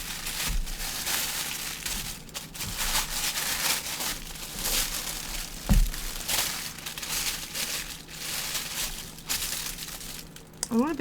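Black and white tissue paper crinkles and rustles continuously during an unboxing, close and fairly loud, with occasional sharper crumples.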